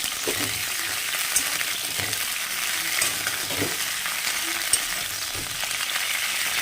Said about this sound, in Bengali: চলো গেলে আস্তে আস্তে ভাজা হতে থাকুক